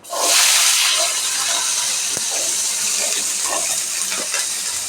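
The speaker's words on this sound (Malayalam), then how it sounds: "നമുക്ക് ഇതിലോട്ട് കൊച്ചുള്ളി ഇട്ട് കൊടുക്കാം" Loud, steady hiss of shallots sizzling in hot oil with popped mustard seeds, a continuous crackling wash close by with a few faint clicks.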